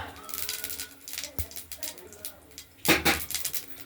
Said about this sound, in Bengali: সর্ষে ফোড়ন দিয়ে দিলাম